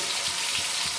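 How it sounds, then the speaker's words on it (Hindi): Cumin, tomatoes and green chillies fry in hot oil, giving a continuous bright hissing sizzle with a few soft low thumps, close and alone for a brief moment. "तेल के बाद में डाला है जीरा, और जीरे के बाद में डालेंगे अब हम इसमें टमाटर, हरी मिर्च"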